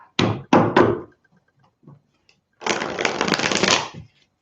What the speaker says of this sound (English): Pisces, one more shuffle.